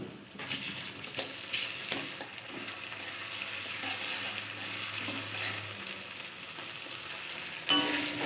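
Ginger and garlic paste with onion fries in a pan for a Bengali soy chunk curry, a steady close sizzle broken by a few soft stirring scrapes and clinks of the spoon against the metal.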